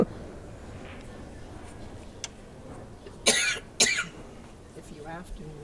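Two short, sharp coughs break through a quiet room at a women's pool match, one right after the other, with faint murmuring in the background.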